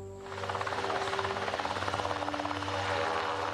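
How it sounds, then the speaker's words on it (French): Helicopters lifting off for a search at daybreak, a steady loud rotor drone with rapid rhythmic blade chop and a sustained engine hum throughout. "Les premiers hélicoptères décollent pour tenter de localiser l'épave."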